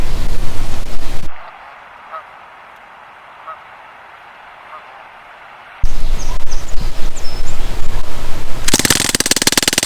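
Geese honk on a rural property, faint, scattered calls heard through a quiet stretch between loud broadband noise before and after.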